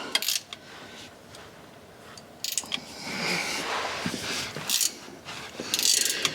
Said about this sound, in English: ratchet and my 17mm close end wrench, and let's get